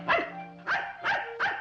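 A dog gives four sharp, evenly spaced barks, close and loud, with nothing else heard.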